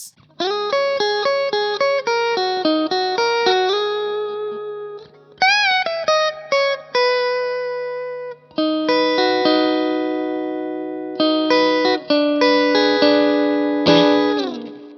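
A clean Macmull S-Classic electric guitar played straight into the amp plays a melodic riff of picked notes and sustained chords, bright and direct with no other sounds.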